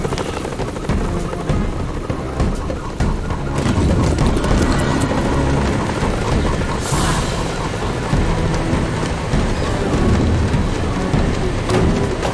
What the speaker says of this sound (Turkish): Yağmur başlamış.